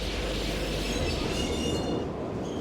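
Electric trolley train with a roof catenary running through the underground tunnels of the Hackenberg fort on the Maginot Line, a steady close rumble of rolling wheels and rail noise throughout.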